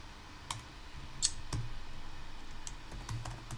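Someone typing text on a computer keyboard, with a handful of quiet, irregular key clicks spaced over a few seconds against a faint room hum and no speech.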